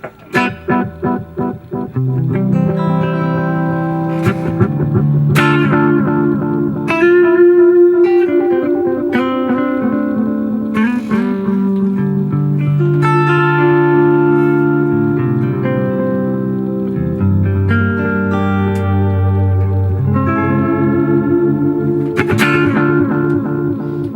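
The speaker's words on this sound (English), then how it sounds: "Just got these nice dark sort of warm delays" A red electric guitar played through an Ibanez AD9 delay pedal with a Keeley mod, picking loud sustained chords and single notes whose repeats trail off darkly and warmly behind each phrase, with no one talking.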